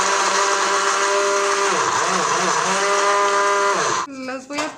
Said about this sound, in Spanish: Tengo aquí mi licuadora, voy a vertir galletas Marías.